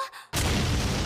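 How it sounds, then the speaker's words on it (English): Explosion in an anime, a sudden loud boom that bursts in after a brief quiet moment and sustains as a broad rumbling blast. "The explosion timing too."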